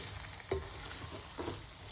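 Jamaican callaloo and okra stirred in a pan, a faint low sizzle with two soft scraping strokes of a utensil, quiet and close with no talk.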